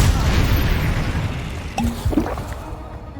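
A Repulsor spell blast in Hogwarts Legacy, heard as a loud, deep booming burst with a short pop, then a rumbling tail that fades away.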